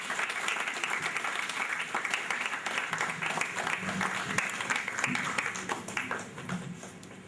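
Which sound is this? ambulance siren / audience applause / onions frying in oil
audience applause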